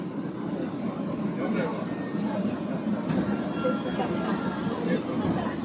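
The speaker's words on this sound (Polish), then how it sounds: "Pojechaliśmy właśnie metrem i jest takie drewniane, takie klimatyczne." Ride in a wooden-interior Tokyo metro train: steady low rumble and rolling rail noise filling the whole stretch, with faint passenger chatter in the background.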